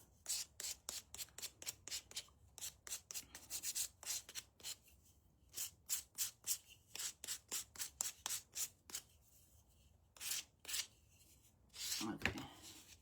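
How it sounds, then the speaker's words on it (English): Rapid rhythmic scratchy strokes of sandpaper rubbing on wood to distress it, close and steady, with short pauses between bursts. "let's go ahead and give this a sanding"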